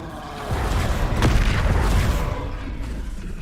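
Incendio, a fire spell in Hogwarts Legacy, goes off as a swelling whooshing roar with a sharp crackle at its peak, then a sustained rumble that slowly fades, with no speech.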